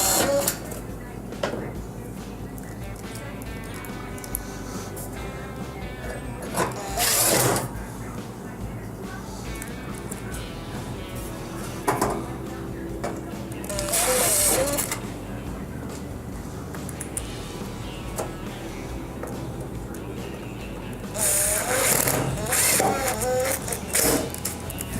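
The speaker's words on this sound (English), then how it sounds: "Going to reinstall the 4 1/4-inch screws." Four quarter-inch screws being driven back into the rear panel of a GE stove, heard as a few short, loud mechanical bursts spaced several seconds apart over steady background noise, with someone talking throughout.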